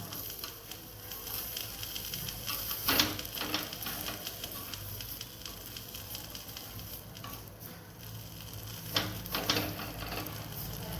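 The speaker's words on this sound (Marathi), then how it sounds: "आता मिरच्या भाजून घेऊ आपण" Green chillies roast in hot oil in a pan, a steady sizzle with scraping stirs and a few sharper crackles rising above it, close and alone with no talk.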